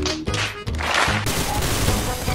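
Rapid gunfire in the Roblox game Arsenal: dense, continuous bursts of shots and cracking impacts, loud and close throughout a couple of seconds.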